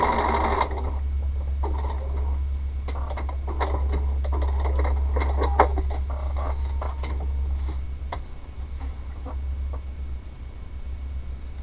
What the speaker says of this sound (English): Now we can go back and sew that last piece on there.